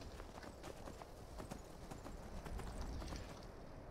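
Horse hooves clip-clopping in the video game Skyrim, a steady run of quick hoofbeats at moderate level over a continuous ambient background, with no talk over them.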